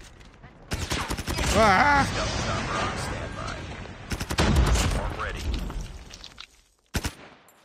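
Rapid bursts of gunfire in a first-person shooter match, aimed at a hunter killer drone during a ranked Hardpoint round, with loud rattling volleys near the start and again midway, under a player's shouts and talk.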